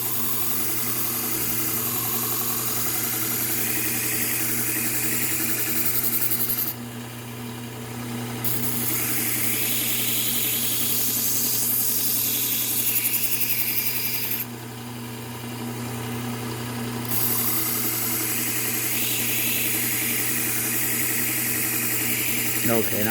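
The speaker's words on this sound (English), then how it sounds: "See how that's bouncing? I think that's the seam in that belt." A belt sander used for knife sharpening runs steadily with a low motor drone and a rhythmic flutter from the belt seam, a close continuous hum with brief grinding passes and a voice talking over it.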